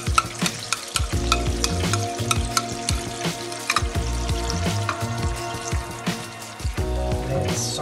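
Onion, tomato and ginger puree sizzles and spatters in a hot pan for Indian cooking, a dense, continuous crackling fry with rhythmic scraping and stirring strokes, close and fairly loud.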